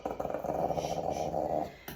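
A dog growls low and continuously while being groomed, a rumbling close-up snarl lasting about a second and a half before trailing off.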